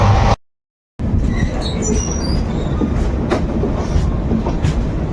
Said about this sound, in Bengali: আমাদের ট্রেন পুরীর দিকে ঢুকতে শুরু করেছে